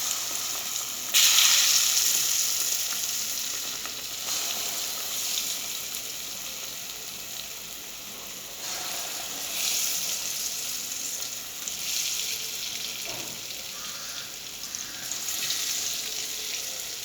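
Akara bean fritters frying in medium-hot oil in a Nigerian kitchen, a steady close sizzle and crackle that swells as fresh batter drops in, with a few soft clinks of stirring and no talk.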